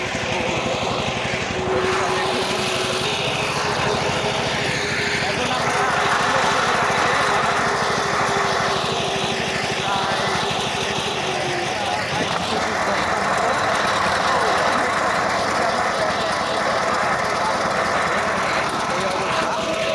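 A power tiller engine drones steadily in an open field throughout, a loud, continuous mechanical roar with no clear breaks.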